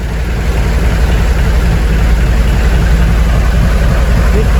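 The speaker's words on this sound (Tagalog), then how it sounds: "Narinig naman ninyo yung makina, talagang okay pa, no, bagong bago kasi." A loud, steady low engine rumble of a nearly new Filipino-style fishing boat engine drones continuously at close range, with dense vibration and no change in speed.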